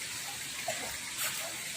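Cold spring water at Bulao Cold Spring in Talakag, Bukidnon gushes steadily, a continuous close broadband rush with no pauses.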